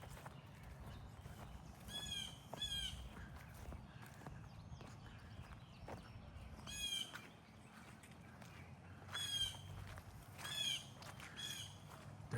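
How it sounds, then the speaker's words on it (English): Birds in woodland squawk repeatedly at a snake on the ground, in sharp harsh bursts that come in clusters with pauses between them, moderately close over a low rumbling background. "And they are just squawking like crazy."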